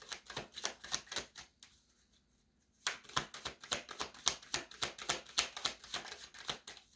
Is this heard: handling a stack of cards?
yes